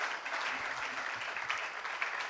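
Audience applause following a talk on resilience at an event about Ghana's illegal mining, steady clapping from a crowd that continues evenly throughout without pause.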